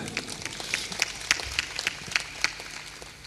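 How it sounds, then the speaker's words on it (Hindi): Scattered, thin clapping comes from a satsang audience at a devotional spiritual discourse. A few hands beat out quick, uneven claps that stay sparse and fairly quiet. "तालियां थोड़ा जोर से बजाया करो"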